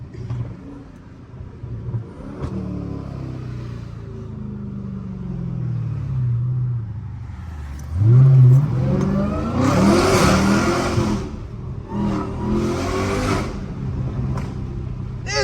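A Lamborghini Urus SUV engine hums low while cruising, then revs hard in several loud surges of rising roar with rumble and whir, heard from inside the car without talk.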